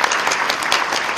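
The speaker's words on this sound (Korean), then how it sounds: "우리 조창 기도를 하게 해주신 하나님께 영광의 박수를 한번 칩시다." Hotel ballroom audience at a Christian New Year prayer breakfast claps together, a loud, sustained wash of applause with no speech over it.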